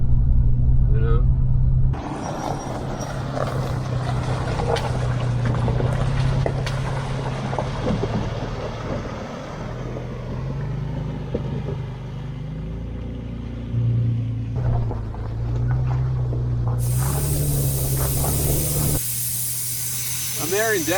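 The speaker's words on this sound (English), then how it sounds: "I'm airing down so I can smooth our ride out a bit." Air hisses steadily out of an off-road tire being aired down on an FJ Cruiser in the Arizona wilderness, a loud, continuous rushing spray close by, with a low rumble and a voice talking over it.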